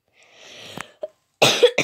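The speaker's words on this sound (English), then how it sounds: "Sorry, I got a bit of a cough." A few short coughs in quick succession, close and fairly loud, with a brief pause between bursts and no talking.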